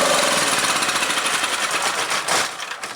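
A Proforce 3125 generator's small engine, just pulled awake after long storage, runs loud and close with a dense rattling drone, then tapers off slightly near the end.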